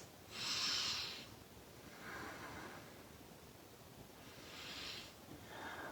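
Slow, deep breaths during a yoga practice, each a soft airy rush of inhale or exhale with quiet gaps between, close and faint, repeating about four times with no talking.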